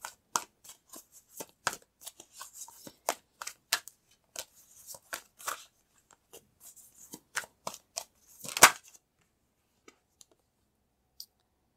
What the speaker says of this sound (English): I'm going to pull another card with it.